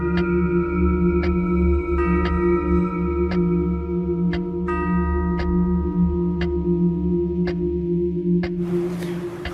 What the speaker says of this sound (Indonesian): Kenapa jam ini bunyi terus?